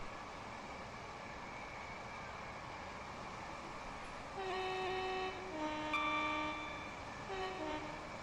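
A train running with the throttle fully open gives a loud, steady, noisy rumble inside the cab. Several tonal whine or horn-like notes rise over the drone partway through.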